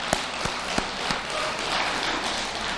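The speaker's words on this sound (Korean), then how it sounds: "박수 한번 보내드려." Audience applause breaks out at a Buddhist temple's Sunday family dharma service: a few scattered claps first, then steady, dense clapping from the congregation that holds for a couple of seconds.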